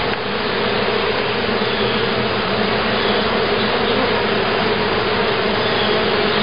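Honeybees hum in a dense, steady, close drone over an open hive that holds a recently caught swarm, with no voices.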